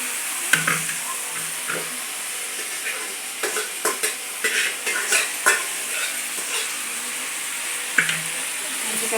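Chukudu kaya curry stirred in a frying pan: a soft, constant sizzle broken by a series of irregular scraping and clacking strokes of the spoon against the pan, close and moderately loud.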